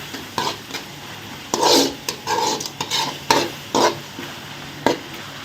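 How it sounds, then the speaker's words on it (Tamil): Masala for a kara kuzhambu curry sautés in a pan, with close, loud, irregular stirring scrapes and clacks of a spoon against the pan over a low sizzle. "நல்லா வதங்கிட்டு வருது மசாலா குழம்பும்"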